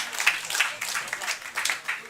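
Comedy show audience giving a comedian a round of applause, a brief smattering of claps under an announcer's speech.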